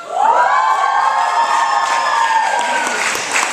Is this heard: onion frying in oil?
no